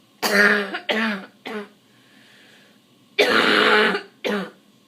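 A person coughs several times in short harsh bursts, pauses, then gives a longer rough throat-clearing rasp followed by one more quick cough, all close and loud.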